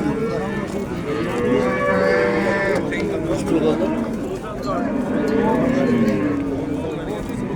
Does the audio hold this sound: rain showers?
no